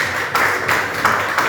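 Church congregation clapping in a steady rhythm, roughly four broad claps spread across a short stretch under a dense wash of hands and room noise, fairly loud and without voices.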